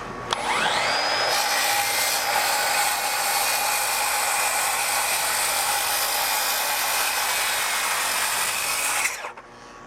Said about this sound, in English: I'm lining up this 2x4 with the line, and I'm using my saw here to cut through it